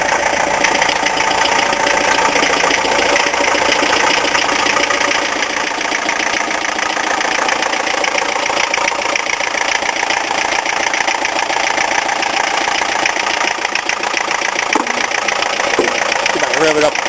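A 1972 Mercedes six-door limousine's diesel engine idles with a steady, loud, rattling clatter that runs unbroken throughout.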